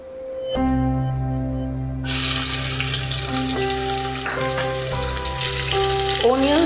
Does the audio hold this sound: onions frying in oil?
yes